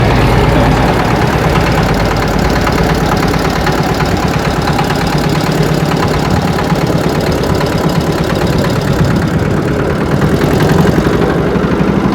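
A large steel trawler-style boat on the Buriganga river chugs with a steady, loud, close engine drone as it slows down, the rumble continuous throughout with no voices.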